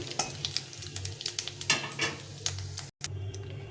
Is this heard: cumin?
yes